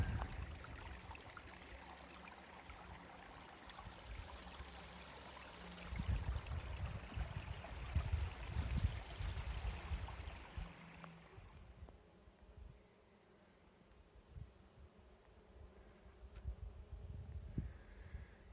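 Water at a stream source along a mountain trail rushes and splashes in a steady, moderately close wash that eases and thins partway through, with no voices present.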